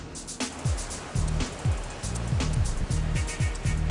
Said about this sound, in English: conveyor belts move the slices through four water rinses